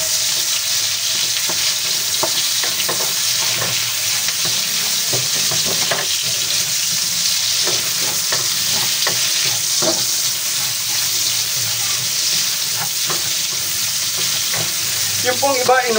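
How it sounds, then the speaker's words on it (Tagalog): Garlic and onions fry in a pan while being stirred, a continuous loud sizzle broken by scraping and clinking of the spoon throughout, with no voices. "Halo-halo lang po para huwag masunog."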